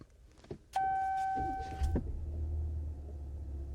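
A pickup truck with a console shifter cranks with a brief whirring start, then settles into a low, smooth, fairly quiet idle rumble that holds steady to the end.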